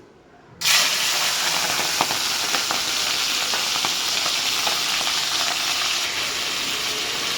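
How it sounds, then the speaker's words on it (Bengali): Shrimp frying in hot oil in a home kitchen, a steady loud sizzle that starts abruptly and continues throughout, with small crackles and pops rising above it. "আমি চিংড়ি মাছগুলোকে আগে ভেজে নেব তেলটা গরম হয়ে গেছে"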